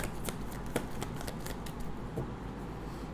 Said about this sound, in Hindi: हमेशा की तरह मैं एक ही शफल करूँगी गाइस, जो भी कार्ड्स आना चाहेंगे वो आ जाएंगे